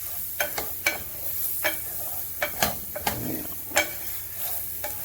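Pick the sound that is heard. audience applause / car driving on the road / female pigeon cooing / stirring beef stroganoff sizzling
stirring beef stroganoff sizzling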